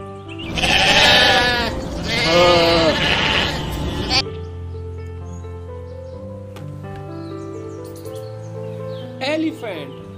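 Sheep bleat loudly, two long wavering calls close by, followed by quieter tonal sounds and a brief softer bleat near the end, with no speech.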